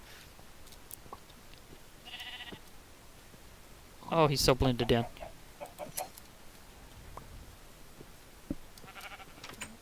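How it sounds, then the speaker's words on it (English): A Minecraft sheep bleats in a game world, one clear loud wavering bleat in the middle and fainter bleats before and after, with a person talking and soft game ticks underneath. "I'm on the path to a sheep."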